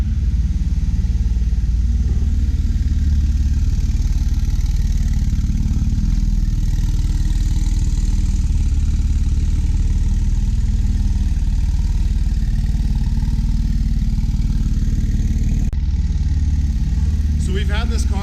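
A Porsche 997 GT2 RS built for Pikes Peak idles in a shop, its deep, steady engine rumble loud and close throughout, with a sharper blip near the end.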